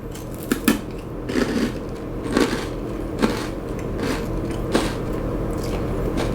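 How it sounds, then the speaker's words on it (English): Crunchy Japanese senbei rice crackers bitten close up, several sharp crackling crunches at uneven intervals over a low background hum. "If you guys never had a rice cracker before, it's like super crunchy, right?"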